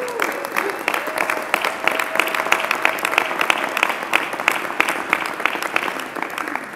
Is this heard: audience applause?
yes